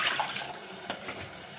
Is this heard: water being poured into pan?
yes